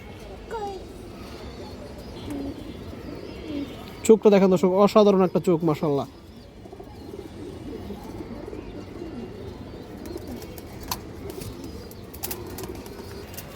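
A female pigeon coos in a short run of throaty, rhythmic calls lasting about two seconds, close by, while someone talks before and after it.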